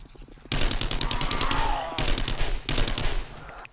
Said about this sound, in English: Well, it's called a submachine gun for a reason